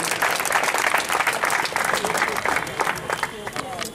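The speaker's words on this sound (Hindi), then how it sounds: "जोरदार तालियों से हार्दिक अभिनंदन करिए।" Hearty audience applause at a college freshers' party, dense continuous clapping from a crowd throughout, with voices mixed faintly underneath.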